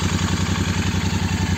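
A Royal Enfield Continental GT 650, a 2021 BS6 model with twin exhausts, idles steadily with no throttle, giving a close, even low thumping pulse and light mechanical clatter throughout.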